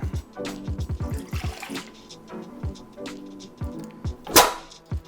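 Yeast mixture for basic bread dough being poured into a big pot, with close splashy liquid pours, gurgles and knocks, then a brief louder rushing pour near the end.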